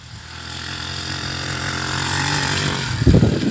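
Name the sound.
motorcycle ridden on dirt terrain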